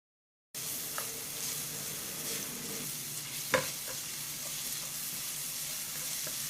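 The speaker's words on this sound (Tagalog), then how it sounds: "Maggisa din tayo ng bawang." Garlic sautés in a pan beside carrots and maling, a steady close sizzle with occasional clinks and scrapes from stirring.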